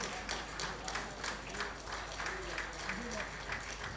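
Audience applause at a Tamil entertainment show event: a moderately faint, steady patter of clapping that continues for several seconds, with murmuring voices underneath.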